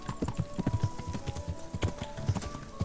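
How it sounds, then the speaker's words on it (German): Horse hooves clip-clopping at a steady riding pace in the medieval role-playing game Kingdom Come: Deliverance, close and continuous with a faint game ambience behind. "reiten wir mal in diese Richtung."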